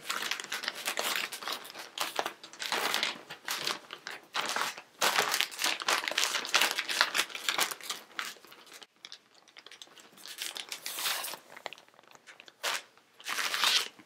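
Paper towel and a plastic bag crinkling and crunching as lettuce wrapped in paper towel goes into the bag, a close, busy run of rustles in bursts with short pauses.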